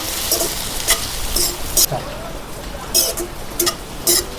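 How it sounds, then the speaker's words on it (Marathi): Barangi flowers being sautéed in a pan, a low background sizzle broken by several bright scraping and stirring bursts from a spatula, close up, with no talking. "सगळं मस्त परतून घ्यायचं"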